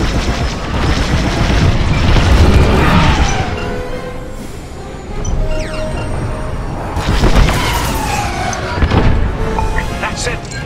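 Starfighters blowing up in a Star Wars space combat video game, heavy booming blasts and crashes rolling one after another with laser zaps and engine whooshes, loud and dense, with radio-style voices talking over the battle.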